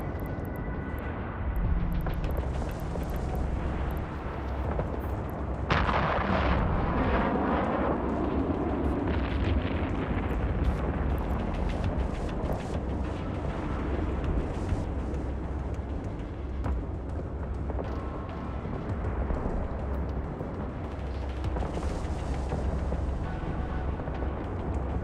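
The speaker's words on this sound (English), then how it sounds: "Probably be more effective if I started firing at him." Spaceship weapons firing in the space video game EVE Online: dense, continuous booming blasts and rumbling impacts that stay loud and unbroken.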